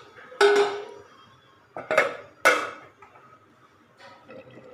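Metal lid set onto a cooking pot of muri ghonto, a few sharp clanks and rattles in quick succession, then a softer tap, close by with no talking.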